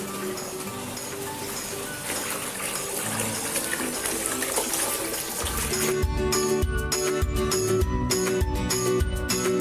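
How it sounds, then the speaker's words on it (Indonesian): Running water splashes steadily as tie-dyed jumputan cloth is rinsed, a continuous gushing wash that grows louder and more turbulent partway through, with faint rhythmic knocks in the final seconds. "Nah sekarang habis ini dibilas, terus bisa dibuka."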